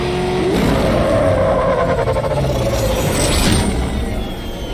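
Heavily armored Batmobile in tank mode from Batman: Arkham Knight, its engine revving loudly and steadily with a rising whine and rumble, close and continuous throughout.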